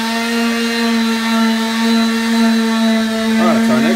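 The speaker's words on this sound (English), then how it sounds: "now what we're gonna do is use a sander just to smooth off the top" Electric sander smoothing the top of a wooden DIY kayak crate, a steady loud motor whine holding one pitch throughout, with a brief wavering shift near the end.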